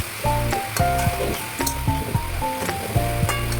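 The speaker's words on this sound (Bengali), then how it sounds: "ভালো করে কষতে থাকবো যতক্ষণ না লাউটা থেকে জল ছেড়ে দেয়" Bottle gourd sautés in a covered pan with oil, a close, loud sizzle broken by repeated clattering scrapes and knocks of stirring, several in quick succession.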